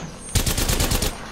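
Gunfire in Apex Legends, a sudden close burst of rapid automatic shots, about seven or eight quick cracks in a tight rhythm, loud and alone.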